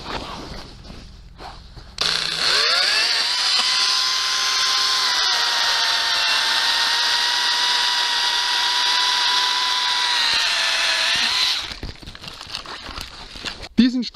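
A pruning cut through a cherry tree branch produces a loud, steady motorized cutting whine that holds for about ten seconds before winding down, with quieter handling noise before and after.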